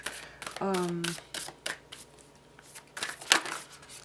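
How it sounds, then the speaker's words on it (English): Tarot cards being shuffled by hand: repeated crisp riffling and flapping bursts, close up and fairly steady, with a brief tonal hum near the start. "I'm still shuffling the cards."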